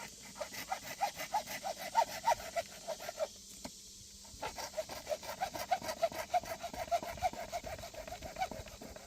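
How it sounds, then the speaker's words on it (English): A hand saw cuts through PVC pipe in quick rhythmic back-and-forth strokes, close and fairly faint, with a brief pause midway before the sawing resumes at the same pace. "So this is where we're going to cut right here."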